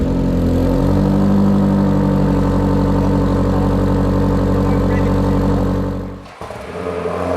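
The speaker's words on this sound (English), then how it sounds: "you can hear a cold start on the original exhaust versus on the QuickSilver" Range Rover Sport SV fitted with a QuickSilver sport exhaust on a cold start, a loud, close, steady engine drone at elevated idle that drops off abruptly near the end before settling into a lower rumble.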